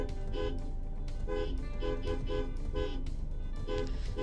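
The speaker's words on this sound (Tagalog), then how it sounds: "So here we are practicing yung horns na dapat sabay-sabay." Several Ford Everest horns honk together in short repeated blasts, overlapping toots sounding in bursts over a low engine rumble, during practice for a synchronized horn-honking world record attempt.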